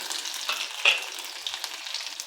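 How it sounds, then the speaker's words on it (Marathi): Garlic sizzles in hot oil already crackling with mustard seeds and cumin for a tempering, a close, steady frying hiss with a sharp pop as it hits the pan. "लगेच लसूण घालू"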